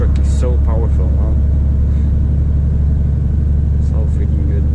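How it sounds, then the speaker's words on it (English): Mercedes truck pulling a trailer, heavy continuous low engine rumble filling the cab at about 39 km/h, steady and loud throughout, with a voice speaking over it. "Man, this truck is so powerful, huh?"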